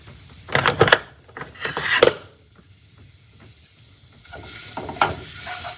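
Napa cabbage and egg being stir-fried in a pan, with bursts of scraping and clattering from the spatula at irregular moments over a soft sizzle, close and fairly loud.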